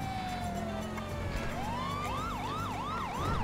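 Police car siren in GTA V, a wailing tone that sweeps steadily and then speeds into a rapid rising-and-falling yelp, played loud over continuous game engine and traffic noise.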